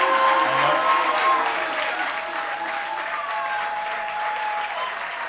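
An audience breaks into sustained applause for world-record holder Ryan Wagner, a dense wash of clapping that starts loud and tapers slightly over several seconds, with a few faint voices and whoops mixed in.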